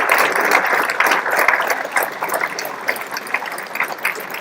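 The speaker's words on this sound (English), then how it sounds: "let's give them a round of applause." An audience applauds graduating airmen at an Air Force Airman Leadership School ceremony, a dense, sustained wash of clapping from a crowd that holds steady before thinning slightly toward the end.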